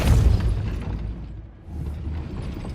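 A Depulso spell cast in the video game Hogwarts Legacy, a loud low booming burst with mechanical clanking. It swells at the start, dips briefly midway, then rumbles on steadily.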